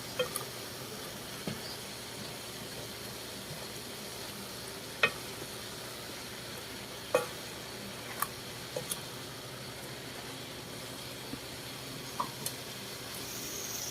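Cabbage sautéing in a pan for Filipino ginisang repolyo gives a steady, close sizzle with a few sharp clicks and ticks from stirring scattered throughout, and no voices.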